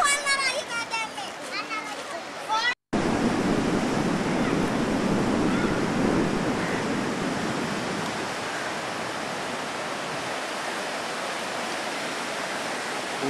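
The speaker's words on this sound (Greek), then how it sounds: "Ινδικός ωκεανός." Indian Ocean surf breaks along the Sri Lanka coast in a steady, close, broadband roar that fills the scene, preceded by a few seconds of someone talking before a brief cut.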